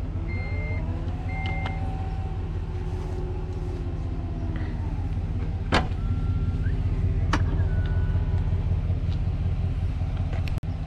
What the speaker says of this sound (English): So we'll close the hatch now.